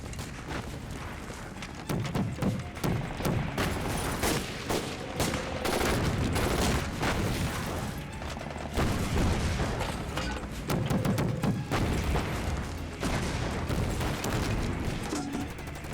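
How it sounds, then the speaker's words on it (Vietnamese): Japanese artillery and gunfire in a war film battle set in Shanghai during the Sino-Japanese war: dense, continuous volleys of rifle and machine-gun shots with heavy booms, loud and close, with little talk. "pháo của bọn Nhật bắn gần quá rồi"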